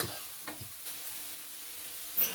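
Dried chilies stir-fried in a wok with a splash of water: a short burst of close sizzling with soft stirring scrapes and a sharper hiss near the end.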